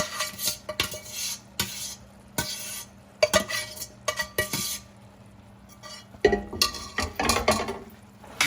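Orecchiette pasta is stirred in a pot, with repeated scraping, clinking and knocking of a utensil against the metal in irregular bursts over a faint background hiss.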